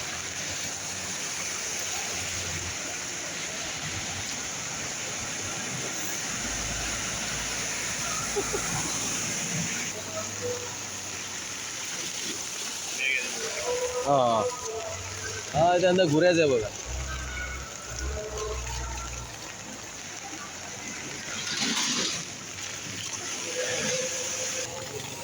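Floodwater surges along a street in Mirpur, with waves sloshing and splashing in a continuous rushing wash. People talk over it throughout, and the splashing briefly grows louder near the middle.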